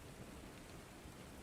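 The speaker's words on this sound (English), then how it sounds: "Evening. Rain started again." Steady rain falling in the evening, heard as a faint, even hiss that continues without a break through the short stretch.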